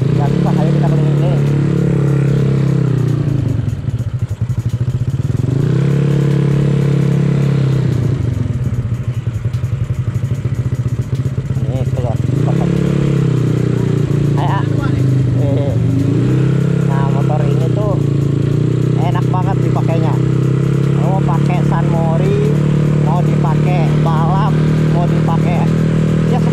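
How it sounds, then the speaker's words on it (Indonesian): A Yamaha Mio scooter engine, bored up to nearly 300 cc, turns over and idles roughly, then revs up and down repeatedly, loud and close, with clattering mechanical noise throughout. "Mio dengan spek tinggi CC hampir 300, tapi lihat aja cara nyalainnya."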